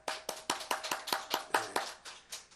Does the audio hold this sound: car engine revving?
no